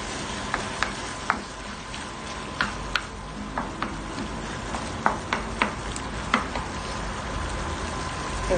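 Vegetables and minced beef fry in a pan for Filipino menudo, a continuous close sizzle punctuated by irregular sharp clinks and scrapes of a utensil stirring, with no talking.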